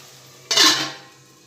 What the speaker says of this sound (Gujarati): થોડી વાર ઢાંકણ ઢાંકી દઈશું।